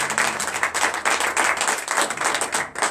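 During morning prayer, a congregation breaks into loud, close, steady applause. Quick, even claps come in a rhythmic pulse and keep going without a break.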